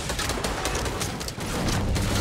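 Sustained gunfire in the battle royale game Fortnite, rapid shots packed tightly together, loud and close, with a brief dip before the firing resumes even heavier.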